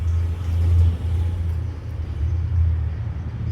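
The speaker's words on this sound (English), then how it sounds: "it is heavily populated with traffic" Low rumbling road noise from nearby vehicles on a busy New Orleans street beside a cemetery swells and fades as traffic rolls past, with no voices.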